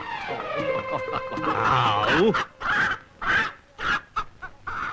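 A chicken clucks as it runs, a string of sharp, loud squawking bursts in the second half, preceded by a blend of other tonal sounds.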